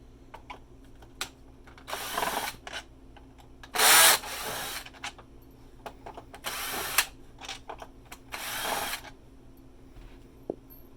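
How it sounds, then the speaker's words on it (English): Screws being backed out of the bottom of a Hoover WindTunnel self-propelled upright vacuum with a power driver, several short whirring bursts separated by pauses and small clicks, close and fairly quiet, no talk. "we're going to start by removing 4 screws that are on the bottom"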